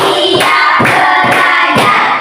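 Hands clap in a counted sequence during an Indonesian classroom lesson: four or five sharp, loud claps at an even, steady pace, with no talking over them.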